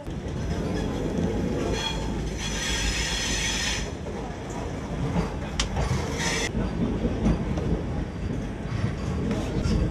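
The Vande Bharat Express runs on rails between Varanasi and Prayagraj, heard from inside as a steady, loud rumble of wheels with a high squeal rising briefly. The noise carries on continuously with no talk over it.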